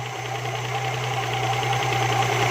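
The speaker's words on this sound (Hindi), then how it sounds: "तो आपने आरपीएम पहले बढ़ाने हैं।" Petrol car engine running with raised revs, a loud continuous droning hum with a steady low tone and a faint rhythmic knocking beneath, close up with no voices.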